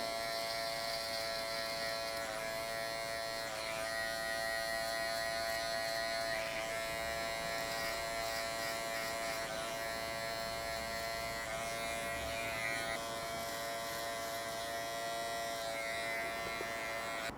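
Electric hair clippers buzz steadily and close up while trimming a low skin fade, a continuous high whine with slight shifts in pitch as the blade moves, no talk.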